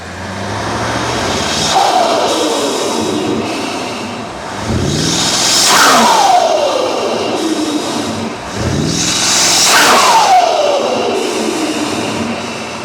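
Heard from the front, a BMW M550 with aftermarket air intakes is revved three times, each loud rev climbing and then sweeping down with a rushing intake roar, with brief settling pauses in between.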